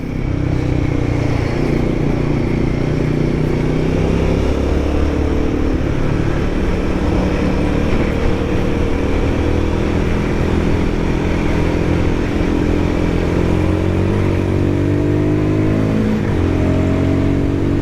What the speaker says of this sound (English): Rev matching, downshift, back again to third